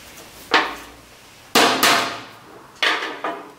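Five sharp hammer blows, some in quick pairs, drive pins into a knife handle. Each ringing strike is loud and close, with a short decay and no voices.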